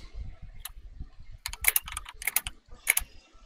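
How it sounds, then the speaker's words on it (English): Bursts of clicky computer keyboard typing, quick clusters of keystrokes with short pauses between, close and crisp over faint low background noise. "that's Sahil on the keyboard"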